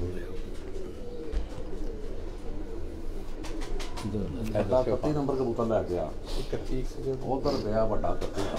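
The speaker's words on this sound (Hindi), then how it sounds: "ये उस्ताद चौधरी सखी मोहम्मद भट्टी के घर वाले ये जो कबूतर हैं" Pigeons kept by a Lahore pigeon fancier coo in soft, repeated throaty calls close by, partly under someone talking throughout.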